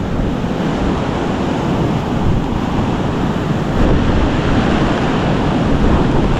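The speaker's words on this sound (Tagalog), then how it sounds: "Gano'ng kalakas ng alon, oh." Strong waves pounding during a typhoon, a loud, dense, continuous roar of surf mixed with heavy wind buffeting on the microphone, with no voices.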